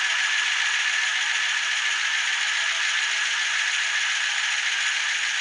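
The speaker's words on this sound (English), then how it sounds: "Alright, she's idling" A Chevrolet C10 truck with an LS engine swap idles steadily after its first start, giving a continuous close whirring hiss with a light mechanical rattle that holds level throughout, with no voices.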